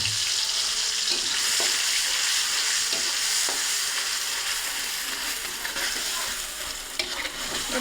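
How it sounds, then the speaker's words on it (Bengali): Spice paste of onion, garlic, ginger, cumin, turmeric, chili and salt frying loudly in a pan for a cauliflower fish curry, a dense continuous sizzle with occasional stirring clicks. "ভালো করে কষিয়ে নেব।"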